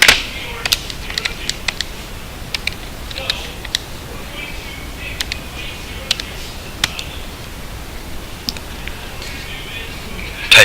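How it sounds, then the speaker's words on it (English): Light plastic calculator key taps click in quick irregular bursts, close by, with brief pauses between groups of presses, entering points for an algebra graph. "Typing this in here quick and getting these points."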